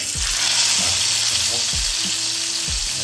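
Snakehead fish frying in hot coconut oil, with a loud, steady close sizzle, faint thumps and scrapes in the pan, and a voice speaking briefly underneath.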